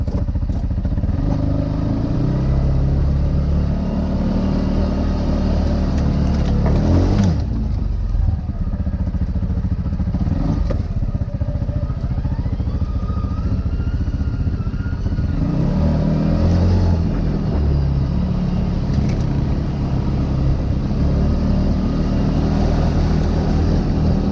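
A CFMoto ZForce 500 side-by-side drives along dirt trails, its engine giving a steady, close, low rumbling drone with occasional clattering bumps. No one speaks.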